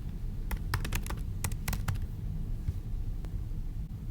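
Student typing an answer on a computer keyboard, scattered clusters of key clicks over a steady low background hum, no talking.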